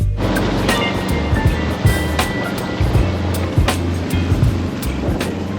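Sailboat engine motoring at higher-than-usual RPM in near-calm conditions, a steady loud drone with constant rushing water and wind, plus occasional knocks and thumps.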